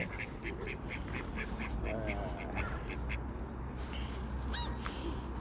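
Several ducks quack in short bursts close by at a lake in Sweden in spring, against a steady background hum with faint murmuring voices.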